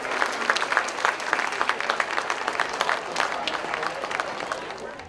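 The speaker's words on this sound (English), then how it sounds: "Join me in a round of applause for Miss Terri Bryant for her contributions to the community" Steady crowd applause on a school football field during a Wall of Honor ceremony, many hands clapping in a dense, even wash that holds at moderate loudness throughout.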